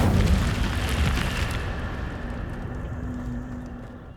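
An Incendio fire spell from Hogwarts Legacy erupts in a single loud whooshing burst that fades steadily into a long rushing rumble.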